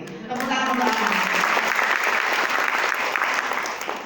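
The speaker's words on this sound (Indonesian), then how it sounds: "Tepuk tangan untuk anak." An audience applauds for the children, a loud, sustained crowd clapping that swells in after a brief spoken voice at the start and then holds steady throughout.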